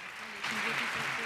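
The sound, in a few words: applause at the Berlinale award ceremony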